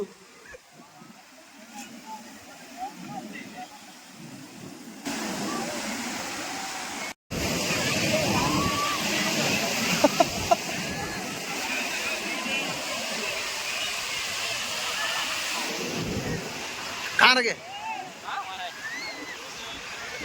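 Sea waves at Calangute Beach in Goa wash in as a continuous broad roar that swells and dips, while people talk over it.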